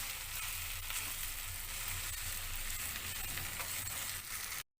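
Tomato tempering sizzles steadily in a hot pan, a continuous broadband frying hiss with faint stirring underneath, close and fairly quiet, ending abruptly.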